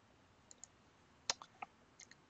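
Sharp mouse clicks while opening a file in betting software, a few isolated taps spread over a quiet background with one louder double click near the middle.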